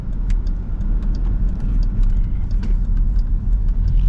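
An SRT Jeep engine with a mid muffler delete idles with a deep, rough, throaty rumble, steady and close, with faint clicks and ticks over the low drone.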